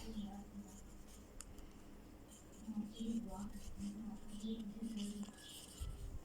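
Pen or pencil writing on paper during a maths lesson, producing faint scratchy strokes in short bursts, quiet and close, with a voice talking at times.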